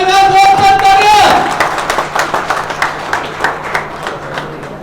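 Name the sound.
audience applause at trophy ceremony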